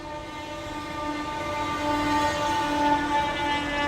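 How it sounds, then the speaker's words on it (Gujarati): A train approaches near the Kota bypass: a steady, loud tonal drone with a horn-like ring grows slightly louder over a few seconds, with no talking. "ટ્રેન આવે છે."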